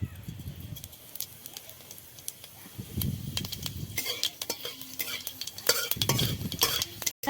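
Five-spice seeds (panch phoron) frying in a little oil, stirred with a utensil scraping the pan in several short bursts, with a soft sizzle underneath at moderate closeness.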